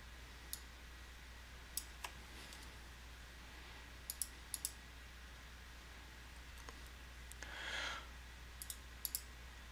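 Computer mouse clicks at a desk while selecting a wall type in modelling software, a few sparse, faint, sharp clicks, some in quick pairs, over a quiet background hum.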